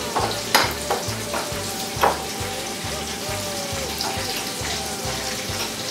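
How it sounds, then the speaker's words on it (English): Breaded tomato slices fry in a pan with a steady, close crackling sizzle and oil popping throughout, with a few sharper spatters near the start and around the two-second mark. "we're making the fried tomato"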